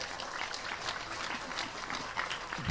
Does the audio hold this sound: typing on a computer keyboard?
no